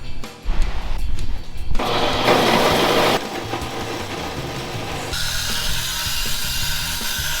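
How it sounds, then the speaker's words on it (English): Steel tube being cut for a rat rod tow truck build, a loud sustained power-saw cut with shifting grinding texture and short bursts near the start, no talking. "Let's cut some tube."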